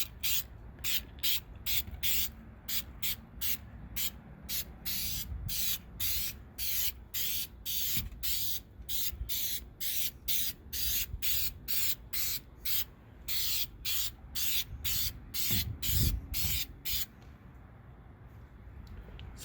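Rhythmic bursts of spray from an aerosol can as a clear coat goes onto a restored car headlight, about twenty short hisses in a steady on-off pattern, close and alone with no talk.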